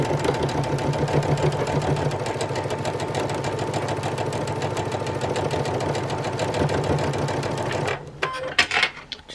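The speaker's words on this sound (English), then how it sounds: "Now I'm going to sew these together now, right sides together" A sewing machine runs steadily, stitching jelly roll quilt pieces together right sides facing, a close, even mechanical chatter for about eight seconds before stopping, followed by a few brief handling sounds.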